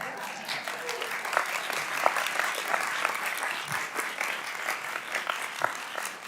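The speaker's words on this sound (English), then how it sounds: "I'm not really accustomed to the applause, but I love it." Applause from an audience in a congressional hearing room, a dense, steady clatter of many hands that holds at an even loudness throughout with no pauses.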